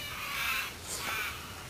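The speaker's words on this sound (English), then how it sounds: "Birds are pretty noisy this morning." Crows caw outdoors in the morning, two hoarse calls at moderate distance over a soft background hiss.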